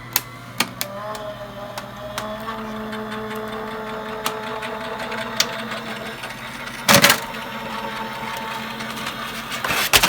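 A die cutting machine feeds and cuts four layers of fabric through a die, a steady mechanical whir with faint rhythmic ticks and a louder crunching burst near the end.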